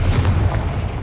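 Confringo fire spell cast in Hogwarts Legacy, a single loud, dense blast with a heavy low rumble that holds steady through the whole brief moment, no voices over it.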